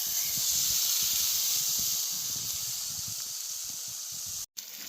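Steak sizzles on a Smithy cast iron skillet set over a firebox, giving a steady loud hiss with crackling pops that runs unbroken, then cuts out briefly near the end.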